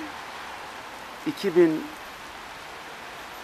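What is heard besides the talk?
rain falling in Famagusta, Northern Cyprus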